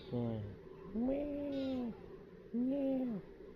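A cat meows three times in a row, each call a drawn-out, rising and falling cry with short gaps between, close and clear against quiet room tone.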